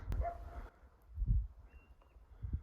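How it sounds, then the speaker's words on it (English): A dog barks a few times at a distance, faint and spaced apart, with a quiet outdoor background. "Not sure if you can hear it, but there's definitely a dog barking."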